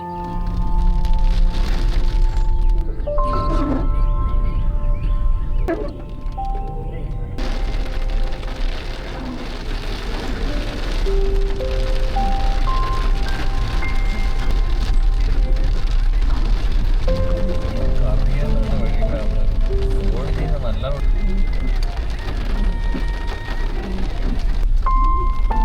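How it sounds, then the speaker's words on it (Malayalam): Steady rain falls on a forest road, a dense continuous hiss of drops on the surface throughout, with faint melodic tones and no talking. "അങ്ങനെ മഴയെല്ലാം പ്രതീക്ഷിച്ച് മുന്നോട്ട് പോയപ്പോൾ അടിപൊളി ഒരു മഴയും കിട്ടി"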